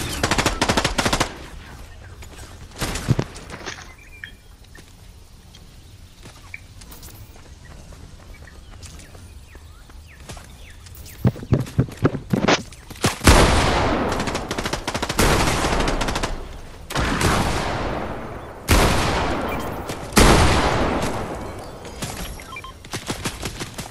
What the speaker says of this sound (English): They're shooting you from up in the air.